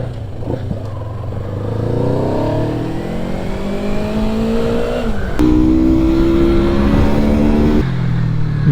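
A Yamaha R3 motorcycle in standard trim revs hard on a race track test run, its engine pitch climbing steadily through rising gears with a brief shift break, loud and close throughout.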